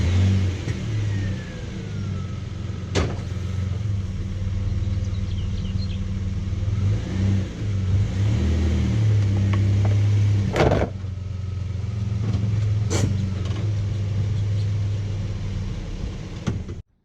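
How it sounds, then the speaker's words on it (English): A car engine runs steadily for the whole stretch, a low mid-pitched hum with a few revs and sharp knocks, as the car is driven up a ramp for an oil change. No one speaks. "start the car, and drive it right up the ramp."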